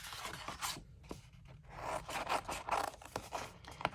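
Scissors snip and rasp through watercolour-painted paper butterflies, soft close cutting and rustling with short crisp snips, quiet and unaccompanied by speech.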